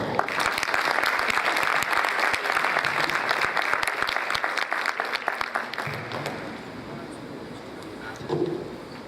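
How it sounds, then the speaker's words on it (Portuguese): Sustained audience applause fills the hall for a guest speaker at an international lecture, loud and dense clapping for about six seconds before thinning to scattered claps and fading. "eu queria uma salva de palmas muito calorosa para o Brian, que vai subir aqui ao palco."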